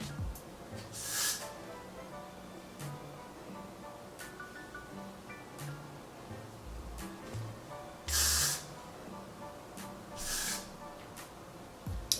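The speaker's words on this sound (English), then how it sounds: "spray it with some Gotta Be Glue spray" Gotta Be Glue hair spray misted onto a sleek side-part ponytail in a few short hissing bursts, with two longer, louder sprays near the end, close to the mic over quiet room noise.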